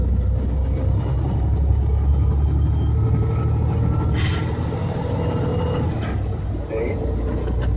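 A semi truck engine rumbles heavily while gears are shifted into high range, a deep continuous drone with a slight dip near the end, heard close from the cab with no clear talk.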